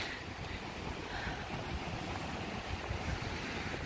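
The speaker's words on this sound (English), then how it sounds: "Look at the waves!" Steady ocean waves washing and rolling continuously by a pier in Cyprus, with a broad rushing surf roar and some wind noise, no voices.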